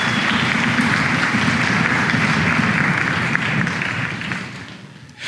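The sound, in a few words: audience applause at a flute orchestra concert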